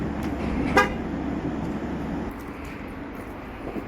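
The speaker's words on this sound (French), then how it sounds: "on va verrouiller pour la dernière fois cette voiture" A Leapmotor C10 electric car locks with a single short, bright horn chirp, heard once near the start over a low outdoor traffic hum.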